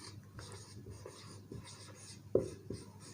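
Marker or chalk strokes on a board during a physics lesson on dimensional analysis, a few soft scratches and one sharper tap close by, over faint room noise.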